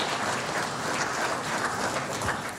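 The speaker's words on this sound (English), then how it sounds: "May I invite you to give a round of applause to our esteemed Prime Minister." A crowd claps together in steady, sustained applause for the Prime Minister at a cabinet swearing-in ceremony in the Bahamas, holding for a few seconds before starting to taper, with no speech over it.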